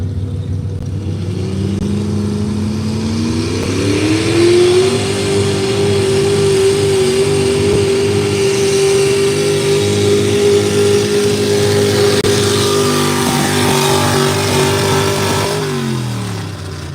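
A 6,000-pound V8 farm stock tractor at an ox roast pull roars steadily for about fifteen seconds, climbing in pitch early on, holding a loud sustained rev, then dropping off near the end.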